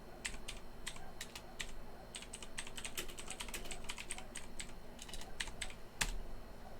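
Fingers typing a command on a computer keyboard, a quiet stream of close, rapid key clicks with short pauses and a firmer final keystroke near the end, no talk.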